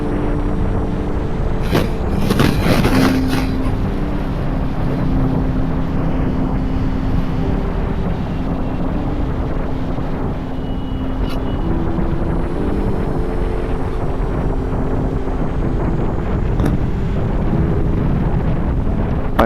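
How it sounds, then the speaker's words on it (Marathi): Wind roars past a lone rider on a motorbike along a highway, a loud, unbroken, buffeting rush that fills the whole stretch, heard up close at the rider's ears. "कानात वाऱ्याचा आवाज"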